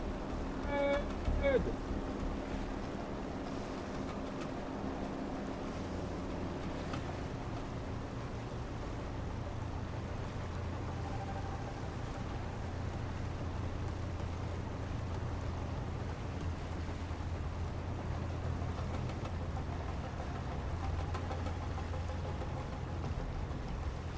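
A video-game ship runs its engines at full steam, making a low, steady mechanical rumble. The rumble thickens after the first few seconds and carries on evenly throughout, with faint splashy noise over it.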